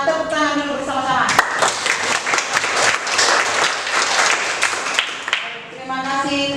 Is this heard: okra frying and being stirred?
no